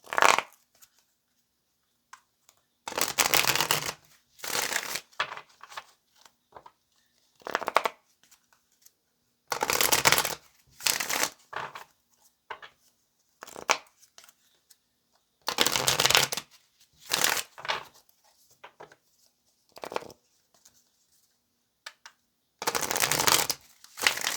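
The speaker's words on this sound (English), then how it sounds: "this will be our last shuffle for now" Tarot cards are shuffled in repeated brisk riffling bursts separated by short pauses, close and crisp, with no talking.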